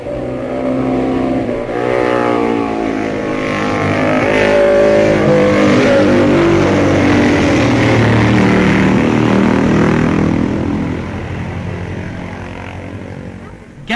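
MV racing motorcycle engine howling at full race pace as the rider takes a corner on lap 4 of a road race, the loud sustained roar rising and falling steadily throughout, with a commentator's voice partly over it.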